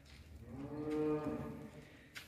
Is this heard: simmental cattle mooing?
yes